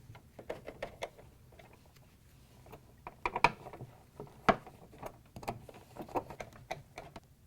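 Screws driven into an ice dispenser auger assembly, held to the crusher of a Whirlpool/KitchenAid/Maytag dispenser drum: quiet, close-up clicks, taps and short ratcheting bursts that come irregularly over a faint background, with no talk.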